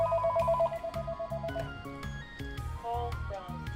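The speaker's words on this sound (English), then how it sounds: "and I have a phone call" A phone ringing in the video game Doki Doki Literature Club Plus: a repeating electronic ringtone melody with steady rhythmic pulses and bright tones, over game music.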